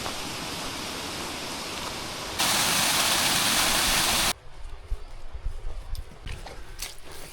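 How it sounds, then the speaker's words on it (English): A small waterfall on a boggy hiking trail in Snowdonia gives a dense, steady rush of falling water, loud and close at first, then dropping away to a fainter background with scattered footsteps and knocks. "You can hear a little waterfall, I think."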